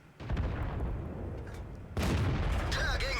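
A JagdTiger's cannon fires in a tank video game, a heavy booming shot that swells suddenly partway through over a continuous rumbling engine bed, with a brief metallic ring trailing after.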